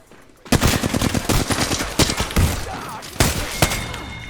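Rapid gunfire in the video game Free Fire, loud and close, with dense bursts of shots for several seconds and a few sharper single blasts toward the end.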